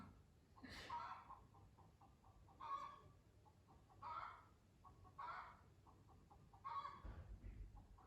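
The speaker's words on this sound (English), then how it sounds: "one of my chickens has just laid an egg and is very proud of herself" A hen clucks after laying an egg, with repeated loud squawking bursts in a steady rhythm, each followed by short clucks, nearby in a quiet room.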